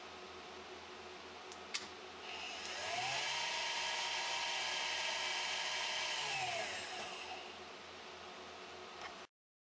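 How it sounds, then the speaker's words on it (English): A milling machine spindle with a floating head spins up with a rising whine and steady broadband hum, runs briefly, then winds down, with a sharp click just before it starts; no one speaks. "Still start the spindle, however stop it straight away."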